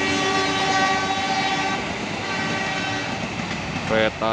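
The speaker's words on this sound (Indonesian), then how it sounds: "Oh, kereta Airlangga." The Airlangga passenger train in Indonesia passes, roaring loudly and continuously, a dense rushing rumble with a brief whistle-like tone near the end.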